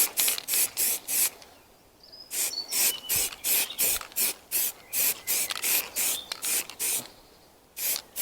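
Cheap Halfords filler primer sprayed from an aerosol can onto Triumph Sprint 900 motorcycle bodywork, heard as a rapid series of short, close hissing bursts with brief gaps between them and no talking.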